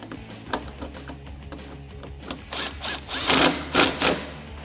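A power drill runs in short bursts while tightening the headlight bolts on a 2015-2022 Mustang, a few brief whirs that grow louder and denser toward the end, close by with no talk.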